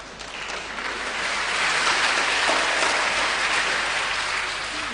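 A studio audience applauds a school team at a science and maths quiz contest. The dense, even roar of clapping swells after the first second, holds steady and eases slightly toward the end.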